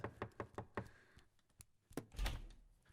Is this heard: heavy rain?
no